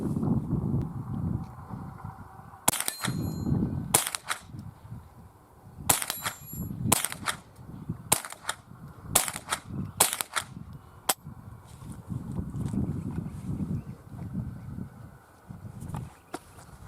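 Ruger and Marlin .22 rifles fire a string of sharp, close shots, about a dozen cracks in irregular bursts with short pauses, set against quiet outdoor background.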